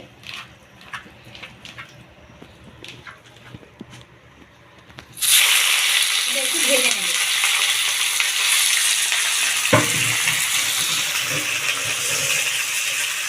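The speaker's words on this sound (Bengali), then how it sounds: "চিকেন নিয়েছি আমি টুকরো করে তো এটা আমি ভেজে নেব সর্ষের তেল দিয়েছি কড়াইতে" After a few seconds of quiet clinking, a loud, steady sizzle of chicken pieces frying in hot mustard oil in a wok bursts in and continues to the end.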